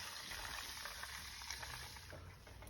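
Butter browning in a pan over medium heat while being stirred, giving a steady, soft, close sizzle with faint crackles and no talking.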